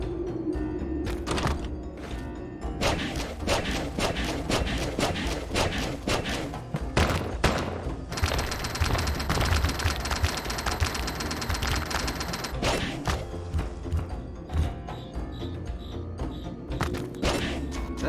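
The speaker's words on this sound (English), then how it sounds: "Heavy machine gun." Heavy machine gun in a video game firing in long sustained bursts of rapid, dense shots, loud and close, with heavy thuds and crashes throughout and brief gaps between volleys.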